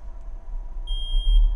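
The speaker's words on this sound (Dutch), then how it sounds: "Een alarm." A steady high electronic alarm tone starts partway through and keeps sounding in a horror video game, clear over a low background rumble.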